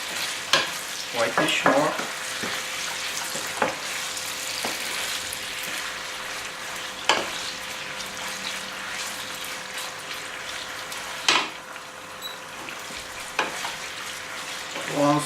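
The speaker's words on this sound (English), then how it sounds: "Stir all that, just real quick until the meat is all pink" Pork mince stirred and fried in a pan, a steady close sizzle with scraping spoon strokes and clatter throughout; a voice speaks briefly.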